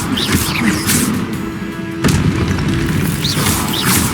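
Incendio fire spell cast in the video game Hogwarts Legacy, a loud burst with a crackling whoosh that repeats over about four seconds, dense and full across the clip with sharp hits near the start and midway.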